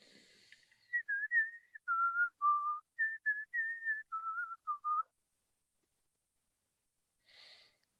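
A person whistles a short, clear melody of about a dozen quick notes, close and alone, followed by silence and a faint breath.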